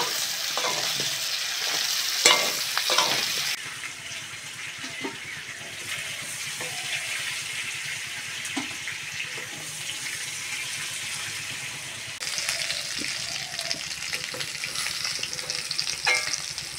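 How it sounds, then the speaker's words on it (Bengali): Potato, pointed gourd and pumpkin frying in a pan, with a steady soft sizzle and occasional stirring clinks and scrapes throughout. "আলু, পটল, কুমড়ো ভালো করে ভেজে নিয়েছি"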